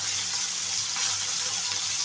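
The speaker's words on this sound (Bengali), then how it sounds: "5 থেকে 10 মিনিট এভাবে ভেজে নেব সুন্দর করে।" Tangra fish fry in oil in a pan, giving a steady, continuous hissing sizzle at moderate level with no talk.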